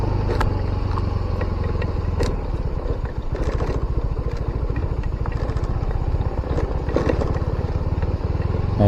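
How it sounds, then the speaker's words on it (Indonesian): A motorcycle engine rumbles loud and close with a steady, clattering mid-range drone along a dark village street at dusk, pulsing slightly without a clear pass-by fade, with no voices. "ada motor"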